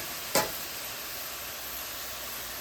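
Shredded cabbage sautés in a pan with a steady, even frying hiss, broken once early by a brief sharp clink.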